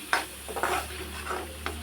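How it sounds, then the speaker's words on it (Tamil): Ingredients being sautéed on low heat in a pan for paneer butter masala, with a soft continuous sizzle and several scraping stirs of a spoon against the pan, close and without talk. "இதை நல்லா கொஞ்சம் நேரம் வதக்கிடுவோம் பச்சை வாசனை போகிற வரைக்கும் சிம்லேயே வச்சு வதக்குனா தான் அடி பிடிக்காது"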